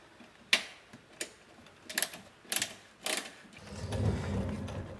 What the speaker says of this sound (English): So for this bolt right here, we're going to take this out.